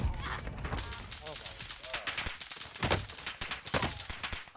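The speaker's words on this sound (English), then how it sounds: "I'm taking shots." Rapid gunfire in Call of Duty Vanguard Warzone on the Fortune's Keep map, dense repeated shots with sharper bursts, mixed with game sounds and a voice speaking.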